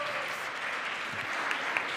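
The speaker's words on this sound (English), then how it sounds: "Big applause for Tony Mateo, CTO of Freebirds." Conference audience applauding a speaker coming onto a summit stage, steady dense clapping throughout, with faint talk underneath.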